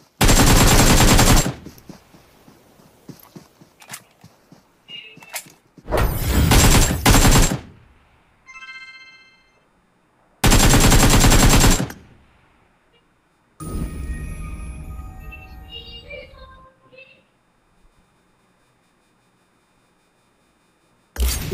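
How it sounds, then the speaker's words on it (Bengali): Gunfire in Battlegrounds Mobile India: several loud sustained bursts of automatic fire separated by quieter gaps, with scattered single shots and game effects between them, no talk. "আমি ফায়ার করছি"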